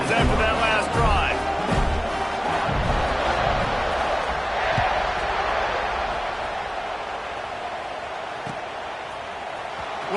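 Stadium crowd roaring in a college football video game, a steady wash of fan noise at kickoff that fades slightly over time, with commentary voices talking over it.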